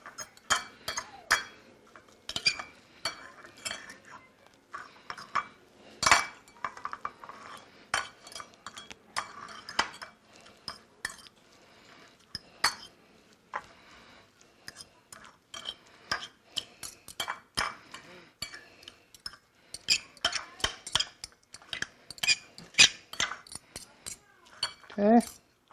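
Two forks mixing sushi rice in a bowl, with irregular light clinks and scrapes of metal against the dish, scattered taps close by and some quiet bursts.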